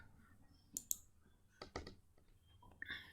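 A computer keyboard being typed on in short, scattered bursts of faint, sharp key clicks with gaps between them.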